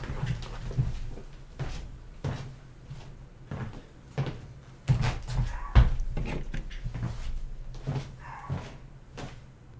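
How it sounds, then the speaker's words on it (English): Knocking on a door indoors: a series of irregular dull thumps and raps, some louder than others, spread across several seconds with quiet room tone between them. "Somebody's knocking on the door."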